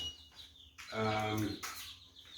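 Chickens cluck and squawk nearby, with one louder drawn-out call in the middle, amid faint background noise.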